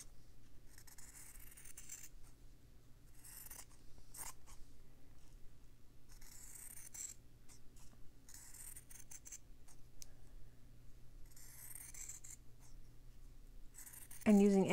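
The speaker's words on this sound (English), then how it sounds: "I can just sketch how I want my leaves to look. So I'll just make three, and then I can cut them down." Pencil sketching leaf shapes on fabric for an Echeveria cactus slow-stitching piece, giving quiet continuous scratchy strokes, followed by a brief louder snip of scissors cutting the leaves near the end.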